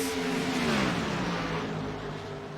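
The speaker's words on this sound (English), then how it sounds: "you could hear the different engine note when we went to him" Race car engines at Kansas Speedway in a racing video game, a sustained loud drone with a steady then slowly falling engine pitch, continuous and fairly close throughout.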